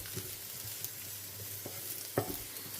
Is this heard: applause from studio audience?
no